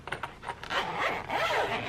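A zipper being pulled open on a gimbal carrying case, a few short tugs followed by one longer continuous rasping pull, close up.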